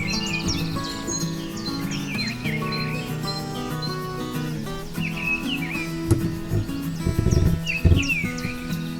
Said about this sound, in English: Birds chirping in the morning. Probably my favorite sound.